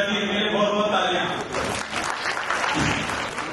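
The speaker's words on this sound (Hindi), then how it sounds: "मेरे बहुत बहुत तालियां" Applause rises from an audience at a scholarship program event, dense clapping building after a voice and holding loud through the rest of the moment.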